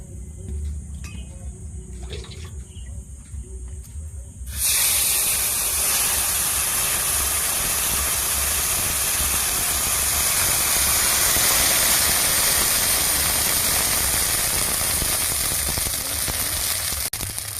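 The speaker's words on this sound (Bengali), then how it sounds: "কড়াটা প্রচন্ড গরম হয়ে গেছিল, সেই জন্য আমি কিছুটা জল দিয়ে দিয়েছি।" Water poured into a very hot wok, with a steady loud hiss and steaming that bursts in abruptly and holds at full strength for the rest of the clip. Quieter kitchen noise comes first, and no one talks.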